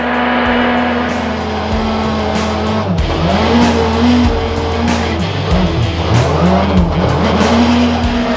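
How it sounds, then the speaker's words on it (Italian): A Peugeot 208 T16 rally car slides sideways on a snowy course under hard braking and throttle. The engine is loud and close, its revs rising and falling across gear changes and throttle bursts, with no voices. "frenata di traverso inizio curva muso all'interno"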